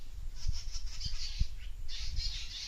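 Birds squawk and call in an areca nut plantation, with several harsh cries repeating near and far over low rustling background noise and no talk.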